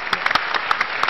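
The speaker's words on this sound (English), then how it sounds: "So can we give him a round of applause" Applause from an audience at a town hall meeting on Ebola, a brief spatter of individual claps at close range, uneven and fairly sparse, with no talking.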